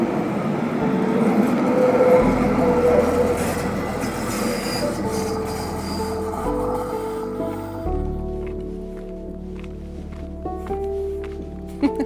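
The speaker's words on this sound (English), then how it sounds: "This is the regular train." Regular passenger train in the snowy Swiss mountains around Schönried near Gstaad, rumbling and clattering close by with brief wheel squeals, then fading into a lower, quieter rolling hum.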